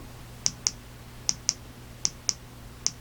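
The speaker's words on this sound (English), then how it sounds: "Simply clicking on the side switch." The side switch of a Nitenumen TK35 flashlight is pressed repeatedly, seven crisp close clicks mostly coming in quick pairs, in a quiet room.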